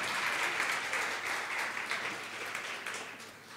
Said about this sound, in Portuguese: Pode aplaudir o Senhor agora.